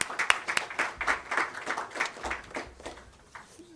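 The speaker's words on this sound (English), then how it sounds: "Let's just give him a round of applause." An audience applauds the Honourable Minister at Sagarmatha Sambaad 2025, a steady round of moderate clapping from a seated crowd that fades toward the end.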